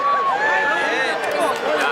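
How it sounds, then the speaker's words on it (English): A large crowd at a horse race roars and cheers loudly and continuously as the horses come through, with excited voices mixed into the din. "The crowd is going off."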